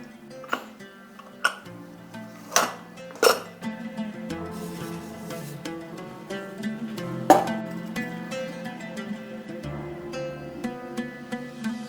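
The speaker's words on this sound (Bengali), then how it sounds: "এবার দেখা যাক প্রেসার কুকারটা খুলে কিনা।" A metal pressure cooker lid is unlatched and lifted off in a home kitchen after cooking a one-pot vegetarian meal, giving several sharp metallic clanks and clinks followed by softer scraping and rattling of the pot.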